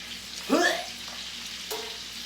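Meat sizzles steadily in a hot pan, with a brief squeaky whine and a soft clunk over the constant hiss.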